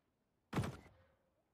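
A grenade drops in the video game The Cycle, landing as a single close, dull thunk with a short fading tail, alone in an otherwise quiet moment.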